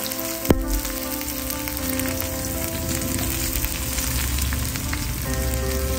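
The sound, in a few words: onions frying in a pan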